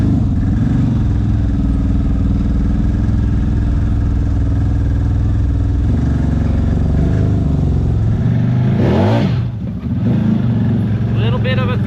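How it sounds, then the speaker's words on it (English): A CFMOTO Z-Force 950 side-by-side engine drones loudly while climbing a trail at Windrock, Tennessee, then gives a brief throttle blip near the end, with a person talking over it. "Little bit of a throttle blip there, and up she goes."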